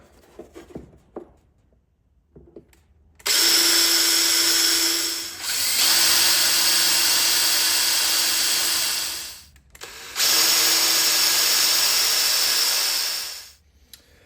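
A power drill bores pilot holes for a Mopar headlamp air duct on a Dodge Challenger Scat Pack with a shaker hood: two loud, close, sustained high-pitched whines, one about six seconds long and one shorter, with quiet handling noises before them.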